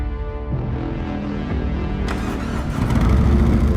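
Harley-Davidson Road King Special motorcycle with a Milwaukee 8 engine, a steady loud engine rumble that swells near the end, with no talking.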